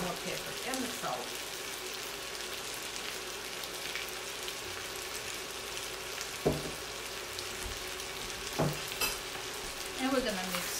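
A kidney bean salad seasoned with coriander, pepper and salt is stirred in a bowl, giving soft, wet mixing and scraping throughout with a few sharper clicks of the utensil against the bowl, close and moderately quiet.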